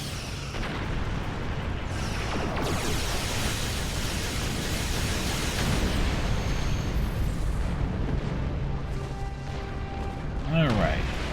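Torpedo fire and explosions in a Star Trek Online space battle, a dense continuous rumbling roar of blasts with a few sharper bursts and whooshing sweeps, loud and sustained throughout, with a voice talking over it.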